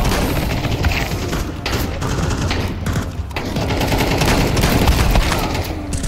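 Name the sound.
headshot gunfire in CS:GO video game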